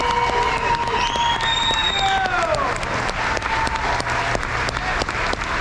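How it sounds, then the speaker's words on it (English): A crowd at a high school senior awards ceremony applauds steadily with dense clapping, while someone briefly whoops and cheers over it early on. "Everybody in the audience, let's give all of our seniors who got awards tonight a very round of applause"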